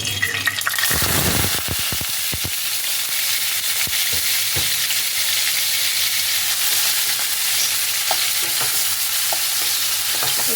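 Onion, ginger and green chilli paste hits hot white oil in a kadai: a loud burst of clattering stirs, then a dense, constant sizzle with occasional spoon scrapes against the pan.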